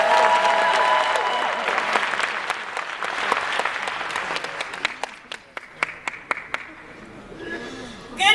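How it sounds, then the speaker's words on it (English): An event crowd breaks into loud, full applause that thins over several seconds into a few scattered individual claps, with some chuckling and chatter mixed in before a final burst near the end. "Let's give her a tremendous round of applause."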